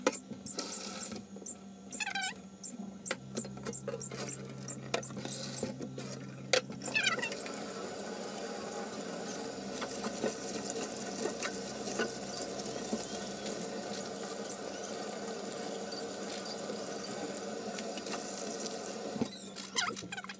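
Water runs steadily from a tap over soaked budgie seed feed in a sink, with clinks and brief squeaky bursts at the start before settling into a continuous rinse.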